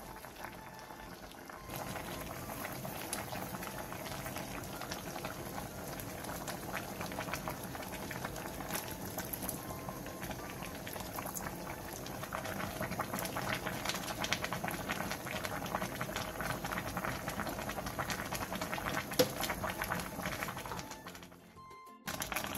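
A pot of Korean sweet potato stem stew with onion, chili, perilla seed powder, red pepper flakes, soju and minced garlic bubbles at a steady, even boil, filling the space with dense continuous simmering close by, with no one talking.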